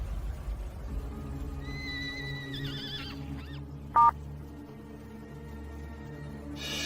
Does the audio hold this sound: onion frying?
no